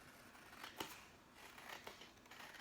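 Scissors snip through paper card in a few quiet, close cuts, with one sharp snip standing out amid faint rustling and no talking.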